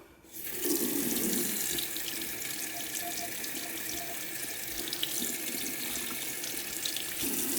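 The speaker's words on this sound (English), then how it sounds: "now I'm at the sink and I'm just gonna use cold water" Cold water from a sink faucet turns on and runs in a steady, full rush, close and continuous for several seconds with no talking.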